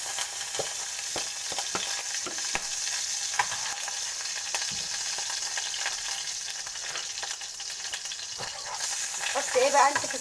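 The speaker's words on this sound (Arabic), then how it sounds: "هنحط فيها معلقتين سمنه، معلقتين سمنه" Ghee sizzles and crackles steadily in a pot as molokhia is prepared, with a constant frying hiss and occasional light clinks up close.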